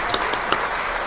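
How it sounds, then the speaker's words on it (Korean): A studio audience claps for a guest on a talk show, a short dense patter of hands with a few sharper individual claps standing out. "박수 치셔도 돼요."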